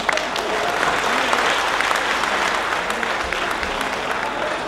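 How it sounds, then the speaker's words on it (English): Steady, dense applause from an audience at an annual dinner stage show after a Chinese face-changing performance, a continuous loud clapping that holds evenly throughout without pause. "once again, a round of applause to Yan Yang Tian, honored from China."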